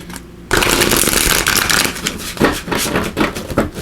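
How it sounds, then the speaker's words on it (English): Tarot cards from a Fairy Tarot deck being shuffled, a loud, close, continuous riffling flutter that starts abruptly and carries on with slight surges, with no talking over it. "We're also going to pull some cards here from the Fairy Tarot."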